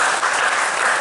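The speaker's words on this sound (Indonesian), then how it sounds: "Tepuk tangan untuk kita semua." Audience applause fills a hall during a briefing session, a dense, steady wash of many hands clapping at once, loud and close throughout the brief burst.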